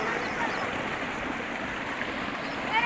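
Water from a running tubewell flowing into a field of tall sugarcane, a steady broadband rush with no break, heard close and moderately loud, with no talk over it.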